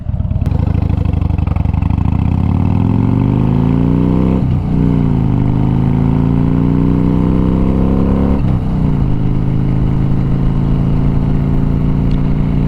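A Harley-Davidson Fat Bob motorcycle engine accelerates hard through two gear shifts, its deep rumble rising in pitch, dropping briefly at each shift, then climbing again, loud and close throughout.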